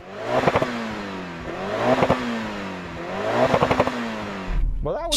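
A Mitsubishi Evo engine revs hard three times in a steady rhythm, each burst rising then falling, loud and near, with a crackling exhaust.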